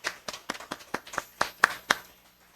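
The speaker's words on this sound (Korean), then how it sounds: "우리 다시 한번 박수 하십시오." Congregation clapping during a Sunday church service, about nine distinct, fairly quiet claps in an even rhythm that fade out after roughly two seconds.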